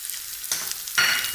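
Ground spices (turmeric, chili, salt, coriander and black pepper) sizzle over medium heat in a pan of fried onions, with two sharp bursts of louder frying as the mixture is stirred.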